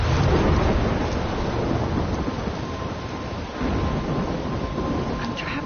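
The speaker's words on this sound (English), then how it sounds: "I'm trapped in a storm?" Heavy rain and rolling thunder from a storm in the video game Life Is Strange, a steady loud roar with deep rumbles throughout and no voices.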